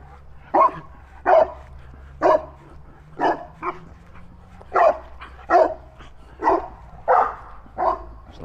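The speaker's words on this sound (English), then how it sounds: "Pretty ferocious dogs." Big dogs behind a fence bark in a loud, regular series of about a dozen sharp woofs, close by, with no talk over them.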